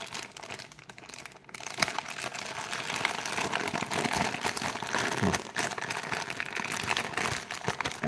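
A parcel holding a TPM module being torn open by hand, with crisp crinkling and crackling of packaging, irregular rustles and sharp tears at close range, continuous and fairly loud.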